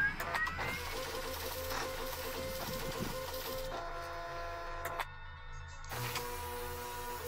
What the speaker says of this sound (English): there's like some sort of 3D printer it looks like here.